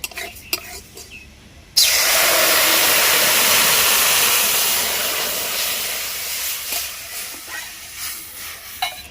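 Water poured into a hot kadai of dry-roasted dal bursts into a loud, sudden hiss that stays for several seconds and slowly fades to softer bubbling, with light clinks before and after.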